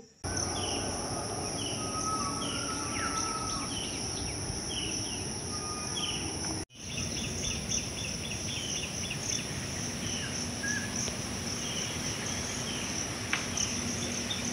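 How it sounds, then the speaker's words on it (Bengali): Morning birdsong in an open field: short, repeated bird chirps over a dense, steady wash of crickets, with a brief break midway before the insect drone resumes. "এই সকালে পাখির ডাকগুলো শুনতে এত ভালো লাগে।"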